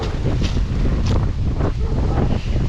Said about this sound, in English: It's been so windy today